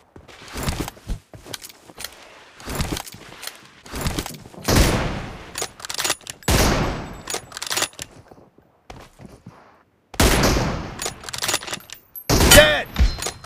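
Gunfire in the mobile battle game PUBG Mobile, with bursts of shots and sharp single cracks separated by quiet gaps, loud and close, plus a few thuds.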